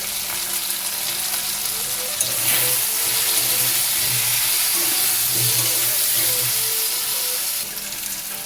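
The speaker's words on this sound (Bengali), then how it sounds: "আলুটা আমি এখানে একবারেই ভেজে নিচ্ছি। নুন হলুদ দিয়ে আলুটা আগে ভেজে রাখলেও হবে।" Potatoes frying in hot oil with salt and turmeric hiss in a steady, dense sizzle that holds loud and close throughout, swelling slightly partway through, with no voices over it.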